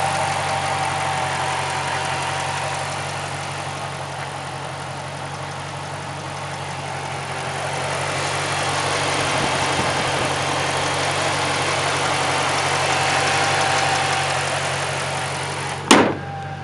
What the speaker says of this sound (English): This engine sure does sound great.